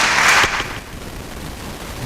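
A loud burst of crowd applause at a women's business summit, honoring a speaker, is dense at first, then fades within half a second into a low, lingering room murmur.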